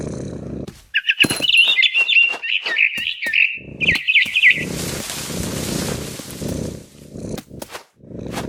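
A frightened bird in What Remains of Edith Finch chirps in quick, bright trills, interrupted by soft thumps and rustling before a steady hiss takes over.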